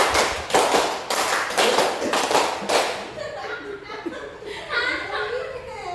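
A group of people clap together in unison, a quick burst of five sharp claps twice over, loud and close, followed by murmuring and light laughter in the room.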